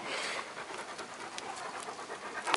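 A dog panting steadily and close by, a continuous breathy rasp with fast rhythmic pulses at a cabin, with a faint scratch or shuffle near the end and no speech.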